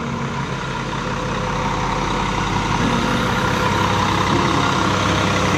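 A bus's Mesin 1836 diesel engine idles close by, a loud, steady, deep rumble that holds constant throughout without pausing.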